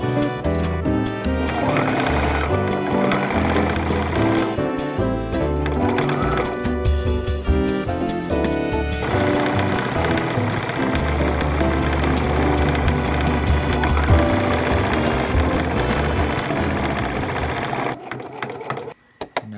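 Sewing machine stitching on a collar, a steady rapid mechanical whirring run that carries on for several seconds before stopping near the end, close and loud.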